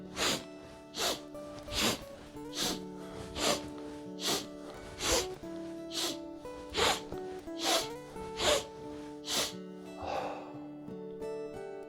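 A person does Strelnikova breathing exercises, taking a series of sharp, loud nasal inhales in a steady rhythm of about one per second. A softer, breathier sound comes near the end, over a faint background tone.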